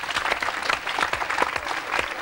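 Studio audience applauding a musician on a French TV show, a dense, steady wash of many hands clapping at close range for a couple of seconds with no talk over it.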